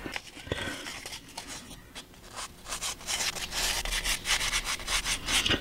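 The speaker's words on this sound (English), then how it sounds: "So I'm lightly sanding it to get it back to take off some of this white" Quick back-and-forth sanding strokes rasp across a small painted model boat, lightly taking off white paint, scratchy and rhythmic, growing busier and louder toward the end.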